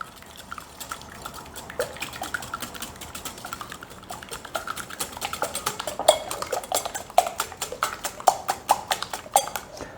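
Eggs are mixed by hand in a bowl for strawberry cookies from a cake mix, a rapid, rhythmic clatter of utensil against bowl that grows steadier and louder, close up with no talk.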